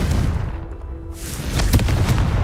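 Confringo blasting spell from Hogwarts Legacy going off as a loud, sudden explosive boom, followed by a brief lull and a second burst of crackling blasts.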